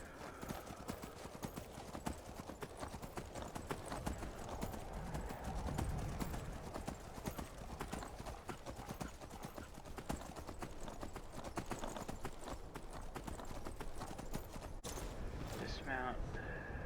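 Horse hooves gallop in the Skyrim video game, a steady dense clip-clop rhythm running throughout under continuous game background sound, with a faint voice near the end.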